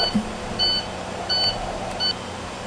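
A bus alarm beeps in three short, evenly spaced tones over a low idling hum inside a transit bus, clear and close.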